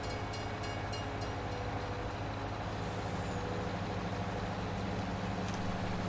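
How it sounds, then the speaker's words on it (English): A train rumbles past in Farming Simulator 19, a steady loud mechanical roar with hissing brake-like tones running continuously and close throughout. "Uh-oh, here comes another damn train."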